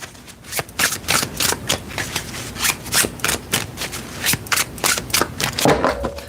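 Tarot cards are shuffled by hand close up, giving a steady run of rapid riffling flicks and soft slaps that continue for several seconds without speech.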